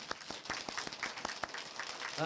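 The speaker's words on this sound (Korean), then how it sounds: "우리 실로암 찬양대 감사의 박수 드립니다." Church congregation applauding the choir during a Sunday worship service, a short burst of steady clapping from a crowd in a reverberant hall, a voice briefly heard at the end.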